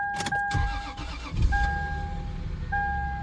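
A 2005 Lexus IS300 Sportcross engine cranks and fires up close and loud, settling into a steady idle while a warning chime sounds twice.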